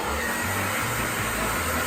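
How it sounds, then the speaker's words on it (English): A cheap thrift-store hairdryer blows on wet primer on a bear carved from scrap wood, giving a brief, steady whooshing motor roar at close range. "Just hit it with a hairdryer and the paint dries like twice as fast."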